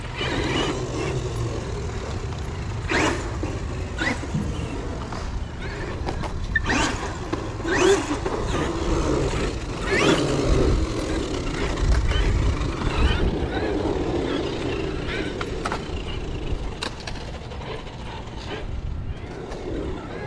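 An RC truck, a Traxxas XRT, drives outdoors with a steady motor whine and gravelly rumble, and a few sharp knocks come from landings after small jumps. Voices talk over it now and then.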